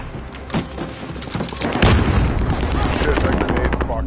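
In Call of Duty Vanguard, a grenade explosion and gunfire rumble in a battle royale trios match: a dense, loud wash of booms and rapid shots builds and stays heavy to the end.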